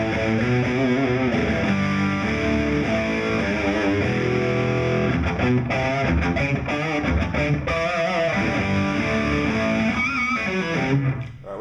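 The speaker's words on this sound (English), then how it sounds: "That's kind of what I use for my heavier distortions." Heavy crunch tone from an electric guitar through a General Guitar Gadgets BSI AB2 Distortion pedal, a continuous stretch of loud, saturated chords and riffs played alone.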